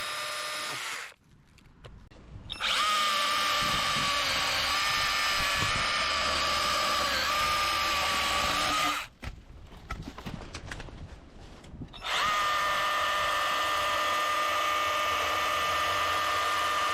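A Stihl GTA 40 battery pruner cutting shrub and small tree branches, its high electric whine running in two long bursts separated by brief pauses, close and fairly loud.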